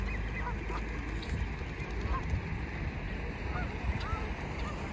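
Ducks and geese honking and calling at Esquimalt Lagoon, scattered calls over steady outdoor wind and water noise, moderately distant.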